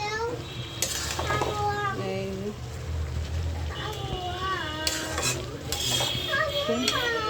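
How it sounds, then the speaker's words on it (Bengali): A pot of curry in light gravy is stirred on the stove, with scraping and gentle sizzling running beneath talking voices, including a child's. "হালকা হালকা ঝোল ঝোল দিয়ে রান্না করছি"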